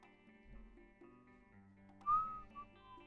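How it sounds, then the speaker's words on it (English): A person whistles a short tune during a sports talk show, a clear rising whistle over a steady room hum, with a brief second note after it. "Sorry, I didn't even mean to whistle there."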